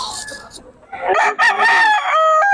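Roosters crowing loudly and close at a poultry market in Bocaue, one long crow following a stretch of clucking and quieter bird sounds.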